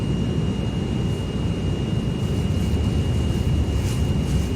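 F-16 fighter jet flying in Microsoft Flight Simulator 2020, a steady, loud engine roar with a broadband rushing rumble and a faint high whine, continuous and even throughout.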